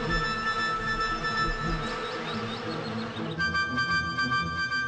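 A honeybee arriving back at the hive laden with pollen and nectar gives off a close, droning buzz with shifting pitch, steady for several seconds before a brief change in tone.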